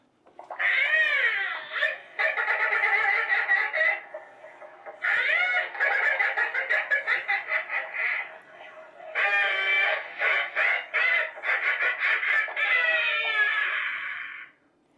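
A 3-foot animatronic jack-o-lantern gives loud, high-pitched electronic animal-like squawks and cackling cries in long bursts, with brief pauses, close and harsh like a toy's speaker.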